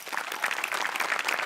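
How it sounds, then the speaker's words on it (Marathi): Studio audience at a Marathi comedy show claps in a steady, dense burst of applause, moderately loud and without voices over it. "सगळ्यात आधी टाळ्या वाजल्या पाहिजेत मोठ्यांसाठी"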